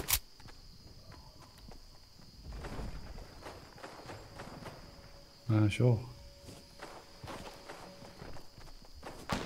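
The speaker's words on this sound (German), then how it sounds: "ich hör Schritte" Footsteps in Fortnite, soft repeated steps of a player character moving nearby under a steady insect-like background hum, with a brief louder thump in the middle and a short stretch of talk.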